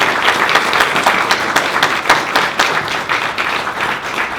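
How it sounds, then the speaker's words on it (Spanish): Audience applause at an art dialogue event at the National Art Museum, a dense, steady wash of many hands clapping close by for the full stretch, with no talk over it. "un aplauso fuerte por favor"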